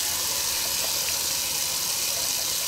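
Cold tap water runs steadily into a sink during a wet shave rinse, a close, loud, continuous rushing gush with no voices.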